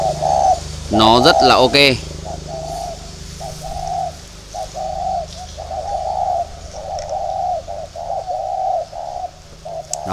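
Spotted doves coo in a steady series of soft, repeated calls close by, each coo a short rounded phrase at even intervals, after a brief burst of sharper chirping; a voice talks briefly at the start.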